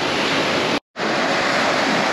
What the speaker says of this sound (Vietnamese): Wow, sóng đánh dập dìu luôn.